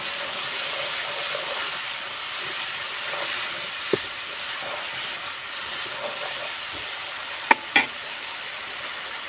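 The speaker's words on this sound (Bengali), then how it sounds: "এবার আমি ভালোভাবে এই মশলাগুলো কষে নিব।" Salt, dried chili powder and turmeric fry in a pan for a taro and silver carp curry, giving a low steady hiss with a few sharp clicks and clatters of stirring.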